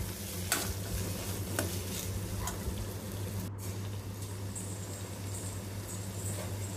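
Onions and garlic being stirred in a hot pan with oil, a steady sizzle with occasional scraping strokes of a spoon, close and continuous with no talking.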